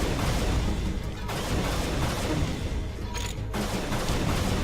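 The Combat Assault Rifle's secondary fire in Unreal: Return to Na Pali unleashes a dense, loud barrage of blasts. Two short gaps break the otherwise continuous roar.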